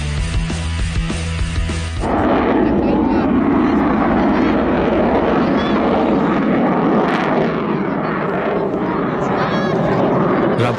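A Rafale fighter jet flies past, its roar cutting in abruptly and then holding as a loud, sustained broadband rush that dominates to the end.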